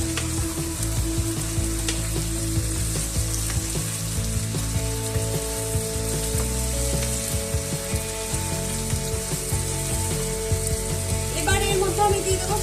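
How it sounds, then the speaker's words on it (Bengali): Ginger frying in a pan for Bengali shukto, a steady close sizzle with occasional stirring scrapes and faint background hum, continuing throughout without talk. "আদার কাঁচা গন্ধটা যাওয়া অবধি একটু রান্না করব।"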